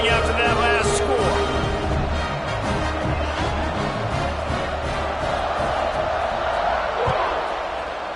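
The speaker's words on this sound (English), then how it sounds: "this crowd is buzzing after that last score" Football stadium crowd buzzing and roaring after a score, a dense, loud wash of many voices with scattered shouts and bangs, holding steady throughout.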